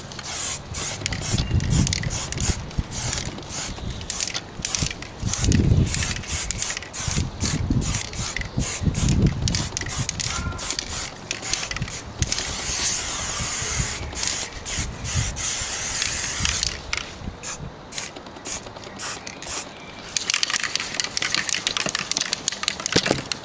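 A spray can of Foliatec anthracite metal paint hisses in long continuous bursts close up, broken by brief pauses and rattling handling noises, with no talk.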